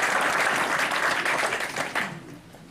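A town hall audience breaks into dense, sustained applause, a loud wash of many hands clapping together that holds steady before fading out near the end.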